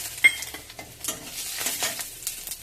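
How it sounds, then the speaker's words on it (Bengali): Bay leaf, dried chili and five-spice seeds hit hot oil, giving a quiet, close crackling sizzle with a sharp spit at the start and light stirring scrapes. "এবার দিয়ে দেবো ফোড়নে তেজপাতা, শুকনো লঙ্কা, 5 ফোড়ন"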